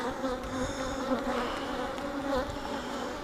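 Honey bees, drones and workers, buzzing in an opened hive full of honey: a dense, steady, close droning hum with shifting pitch, heard alone without talk.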